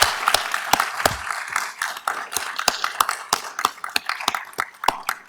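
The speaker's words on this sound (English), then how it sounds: "Let's give her a big round of applause." A dental school white coat ceremony audience applauds, a fairly thin round of clapping with distinct individual claps, moderately near and fading slightly toward the end.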